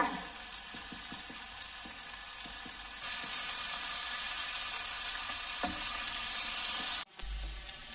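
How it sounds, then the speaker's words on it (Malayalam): Fish fries in hot oil in a pan for an onion-roast fish dish, giving a steady, close sizzle with soft scrapes as the pieces are turned. The sizzle grows louder partway through, and a brief thump breaks it near the end. "ഇനി നമുക്ക് ഈ മീനൊന്ന് മറിച്ചിട്ട് കൊടുക്കാം ഇതുപോലെ മറിച്ചും തിരിച്ചു പോയിട്ട് ഇത് ഒന്ന് മുരിച്ച് മൂപ്പിച്ചെടുക്കാം"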